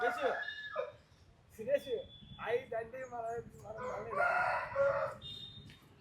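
A rooster crows several times close by, loud and clear, with some clucking between calls.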